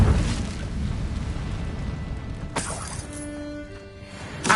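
A fire spell cast in the Hogwarts Legacy game erupts in a burst of whooshing flame and crackle, with a sharp crash midway and another burst at the end, loud and close.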